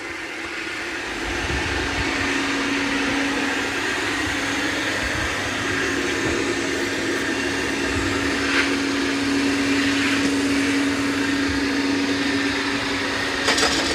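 A Roomba Combo 405 robot vacuum runs steadily across wooden floor planks against the grain, a continuous close motor whir with a sustained hum and occasional brief clicks and bumps.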